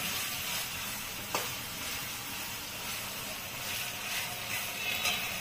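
Slit green chillies and raw mustard oil go into a pan of onion posto with the gas turned off, giving a soft, steady sizzle with a couple of faint stirring clicks and no voices.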